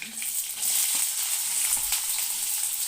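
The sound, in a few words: mustard seeds spluttering and frying in hot oil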